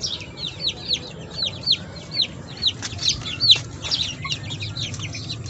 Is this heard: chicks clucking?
yes